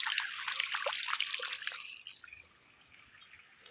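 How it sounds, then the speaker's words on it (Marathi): Water trickles and drips back down the pipe of a three-phase farm pump motor just after it is switched off, a close, steady trickle that thins and fades after about two seconds. "मोटर बंद झाल्यानंतर पाणी थोडं आतमध्ये खेचते आणि परत पाणी बंद होतं"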